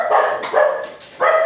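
A dog barks three times in a steady rhythm, loud and close, each bark short and throaty.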